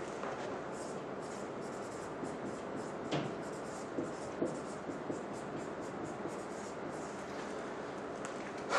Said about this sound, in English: I'm going to erase this one.